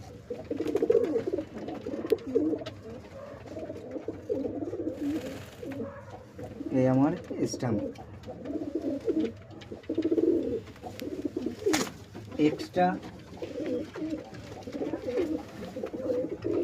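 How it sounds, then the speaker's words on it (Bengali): Pigeons, including black ones, at a pigeon racing tournament give repeated low, throaty coos close by, rising and falling in rhythmic bursts throughout while someone talks over them. "4টি কালো পায়রা আছে, একটি এক্সট্রা পায়রা দেয়া হচ্ছে।"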